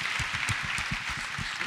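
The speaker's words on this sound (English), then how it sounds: "a big round of applause for Mr. Sergey." Steady audience applause for pole vault champion Sergey Bubka at an athletes' talk, a dense even wash of clapping held at moderate level throughout.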